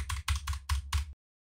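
Five quick button presses on a keypad in Fortnite as a code is entered, sharp clicky taps in an uneven rhythm, close and clear, ending abruptly in silence.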